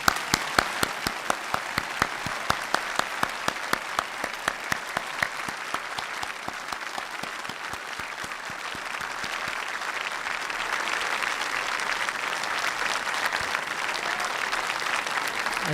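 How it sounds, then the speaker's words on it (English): An evening audience honoring Apollo astronauts gives a round of applause: crisp, evenly spaced claps at first, then a sustained wash of crowd clapping that stays steady to the end. "How about a round of applause,"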